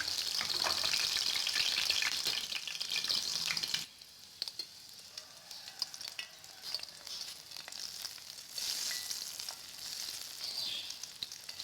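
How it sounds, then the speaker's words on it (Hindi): Loud sizzling of hot tempering oil poured into chickpea curry, a burst of frying that drops abruptly, then a softer continuing sizzle with stirring. "और ये मज़ेदार सा तड़का चला जाएगा अब चनों में।"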